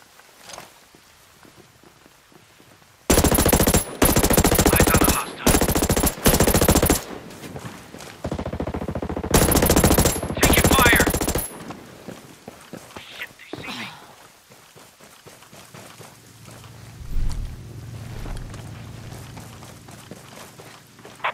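Bursts of rapid automatic gunfire in the video game Ghost Recon Breakpoint, during PvP play, crackle loudly in several long volleys separated by short pauses, then give way to quieter rustling and distant rumbles.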